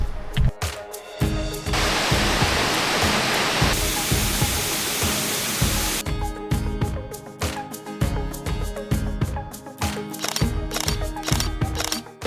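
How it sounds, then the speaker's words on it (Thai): Than Sawan waterfall in Doi Phu Kha National Park, Nan, sends out a steady rushing roar for a few seconds amid rhythmic background music that plays before and after. "อันนี้อยู่น้ำตกอะไรนะ ทานสวรรค์ ทานสวรรค์น่าน น้ำตกทานสวรรค์น่าน"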